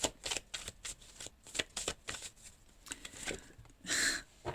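Tarot cards are shuffled and drawn in a rapid run of riffling flicks and soft slaps, recorded up close with a brief louder rustle near the end and no talking.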